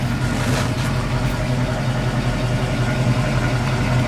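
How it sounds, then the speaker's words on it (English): A red 1968 Ford Mustang idles with a steady, loud, low rumble that holds even and unbroken, close by and with no one speaking over it. "Like you said, listen to it idle here."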